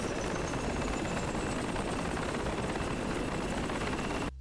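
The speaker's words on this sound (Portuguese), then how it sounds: "Helicóptero." Helicopter in the video game Project Reality 2, a loud, constant rotor chop and engine roar filling the whole stretch without pause until it cuts off abruptly at the end.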